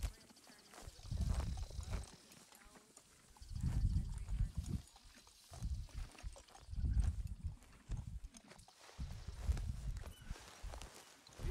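Horse hooves clip-clop at a walking pace in Red Dead Redemption 2, coming in four spaced clusters of soft, muffled thuds against quiet background ambience.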